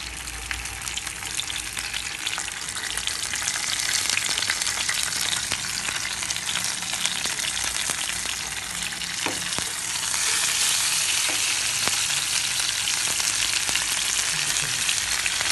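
Ayila (mackerel) fish frying in hot oil gives a continuous loud sizzle and crackle that swells stronger partway through, with a few faint clicks of a pan; no talking.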